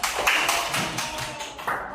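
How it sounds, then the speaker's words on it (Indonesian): Children in a classroom clapping their hands, a short burst of sharp, close claps in a few irregular waves, fairly loud, with faint voices mixed in. "Mana tepuk tangannya?"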